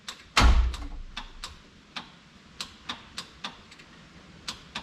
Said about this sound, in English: I hear something clicking over here. I don't know if that's a starter relay